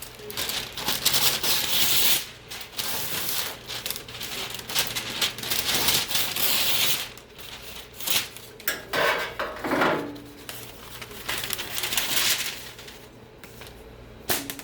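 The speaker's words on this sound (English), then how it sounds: "let me cut some more paper." Sheets of sublimation paper being cut up close, giving a loud, busy run of crisp slicing, rustling and crinkling bursts with no talking.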